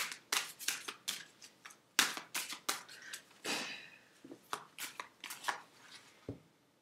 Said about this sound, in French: je veux tirer une carte pour toi